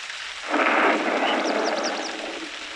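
Rolling thunder sounds in a stormy Toca Life World game scene with rain, one broad rumbling swell that rises quickly and slowly fades over a few seconds, with faint chirps above.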